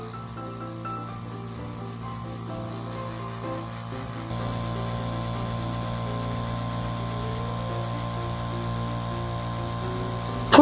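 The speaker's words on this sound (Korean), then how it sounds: "이제 모터가 작동하네요." An oilless 2-horsepower, 8-liter air compressor motor drones steadily with a constant electrical hum, growing slightly louder partway through and running without pause, with no voices.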